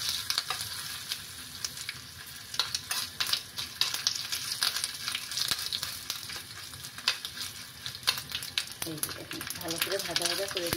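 A tadka for coriander chutney fries in a pan with a steady sizzling hiss, interrupted by frequent sharp crackles and spoon scrapes, and a voice speaks briefly near the end.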